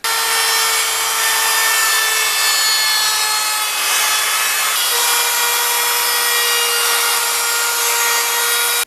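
A power tool cuts a bevel along the edges of oak pallet wood, a loud continuous high-pitched whine with steady tonal ringing throughout, close up and alone.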